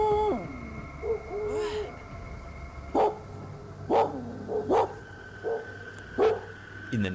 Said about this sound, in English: This after dark footage shows the uploader's dog acting up, barking and howling toward the area where the figure paces.